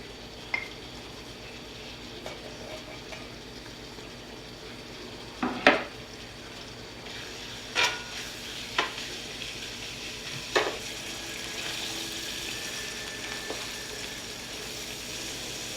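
Onions and browned ground meat sizzle steadily in a pan, with several sharp clinks and scrapes of a utensil stirring against the pan; no one talks.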